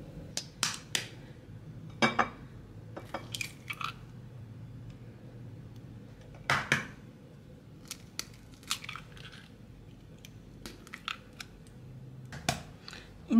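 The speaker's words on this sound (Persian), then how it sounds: "اولین کاری که باید انجام بدیم باید تخممونو بشکنیم" Room-temperature eggs are cracked for a green bean kuku, giving a series of sharp, close cracks and taps at irregular intervals over a quiet background.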